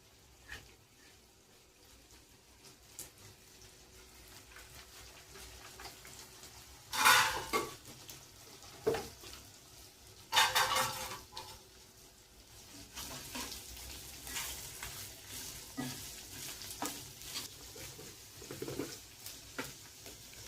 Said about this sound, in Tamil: அதையும் இதில் போட்டு நல்லா வதக்கிக்கலாம்.